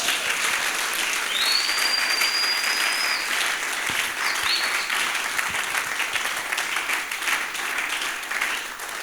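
Church congregation applauding the Lord at a French-language worship service, sustained dense clapping filling the room steadily for the whole stretch, with a faint whistle or cheer rising above it.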